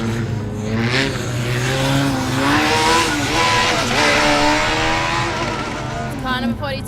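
Formula Student race car on an autocross lap, heard as a loud, close engine revving and shifting pitch through a turn, with commentary over it.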